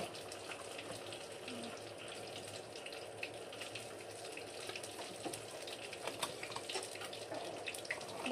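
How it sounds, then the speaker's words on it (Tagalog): Tap water running while a juice container is rinsed out for recycling in Japan, a faint steady splashing flow with small spatters, low and continuous throughout. "Nabalawan ko na ito ng tubig."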